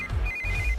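An electronic phone ringtone trills steadily, a short close burst of repeating tones with no talking.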